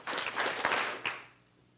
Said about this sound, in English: I want you all to clap 3 times.